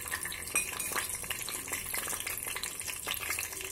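Cashews frying in coconut oil in a pan, a steady broadband sizzle with small stirring clatters and occasional crackles, close and continuous, no voices.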